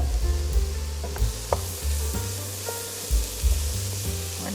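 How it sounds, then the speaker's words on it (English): Zucchini is tossed with other vegetables for minestrone in a hot pan, giving a steady sizzle and frying hiss. Scrapes and stirring clatter break in at irregular intervals, close up, with no talk. "Go ahead and add that zucchini and toss that with the rest of our veg"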